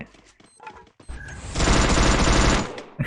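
Loud, sustained burst of automatic gunfire in the battle royale game Free Fire, preceded by a few scattered shots and quieter game sounds.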